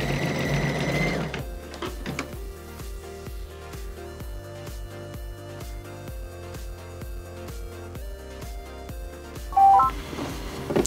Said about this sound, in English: we're gonna put the foot down and we're gonna try stitching it out for us here.